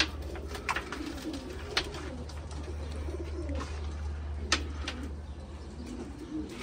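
Pigeons coo softly in a loft in low, rolling murmurs, with a few sharp flutters and knocks scattered through.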